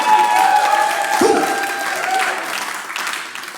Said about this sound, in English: Don't clap too hard.